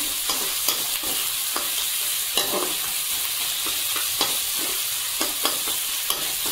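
Chicken pieces with spices frying in a pan, a steady broadband sizzle broken by repeated scraping stir strokes at an irregular pace, close and fairly loud, with no voices.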